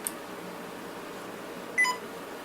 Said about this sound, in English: Now that is the beep the system makes when it turns on.